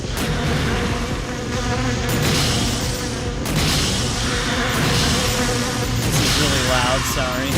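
Loud droning swarm of bees buzzing in the Resident Evil video game, a thick continuous hum with wavering pitch and brief sweeping whines near the end, heard alone without talk.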